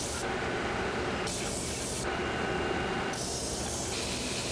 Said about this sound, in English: And then I flatten it on the disc grinder.